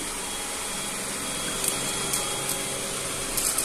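A Yeedi Vac 2 Pro 2-in-1 robot vacuum cleaner runs with a constant close whirring hiss, broken only by a few faint clicks and bumps.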